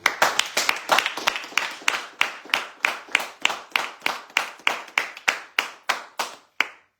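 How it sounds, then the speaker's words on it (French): A radio show audience claps in slow, steady unison, about three even beats per second, each clap sharp and close. The beat holds for several seconds and then stops. "par vos applaudissements, on les remercie"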